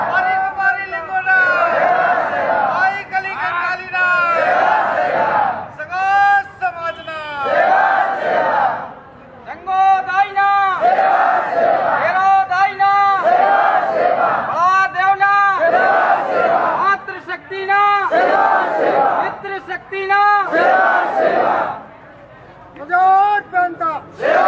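A large crowd of tribal pilgrims bound for Kachargarh gathers at Damoh railway station, raising loud rhythmic group chants and cries in repeated bursts with brief pauses between them.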